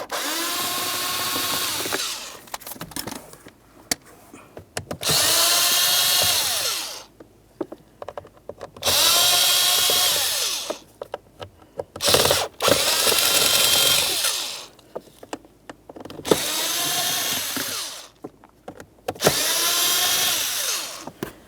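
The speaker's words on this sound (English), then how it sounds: "Let's start removing all of the screws that we can see" A power drill backs out Phillips head screws on a 2006-2011 Honda Civic during AC compressor replacement, loud whining bursts of a few seconds each repeated about seven times with short quiet gaps in between.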